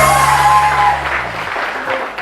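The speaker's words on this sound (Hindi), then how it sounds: "बहुत सारी तालियां सलमा आसिम के लिए" A morning-show studio audience claps for a guest, steady applause that thins toward the end, with a few whoops or shouts mixed in and faint tonal sounds early on.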